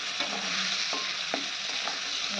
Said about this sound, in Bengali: আর এদিকে কাঁকড়াগুলো ভাজছি